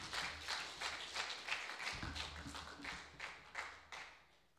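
An audience at a school end-of-year presentation claps for an absent award recipient, a quiet, distant round of applause with distinct pulses that fades gradually toward the end.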